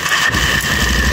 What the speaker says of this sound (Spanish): Voy a encender la moto.